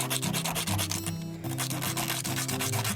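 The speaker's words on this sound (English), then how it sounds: "I think this is 80 grit, so it's crazy coarse. And you just want to get that sharp edge off" Coarse 80 grit sandpaper rubbed over the sharp edge of a metal spoon ring, a rapid, steady back-and-forth rasping of close strokes that continues throughout with no talking.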